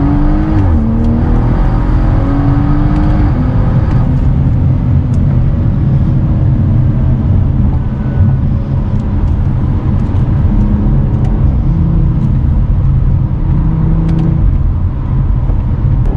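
A BMW 340i engine accelerates hard during a road test, its rising engine note climbing steadily through the gears with brief shifts, loud and close from inside the car with strong low rumble throughout.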